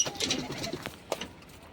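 Pigeons in their upper coops give short, close coos and rustles as grain is put out for them at feeding time.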